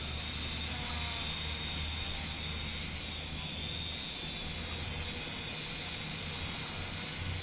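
A cheap beginner drone hovers and flies outdoors over a yard, its motors giving a steady high-pitched whine with a constant low hum beneath, moderately distant and unbroken throughout.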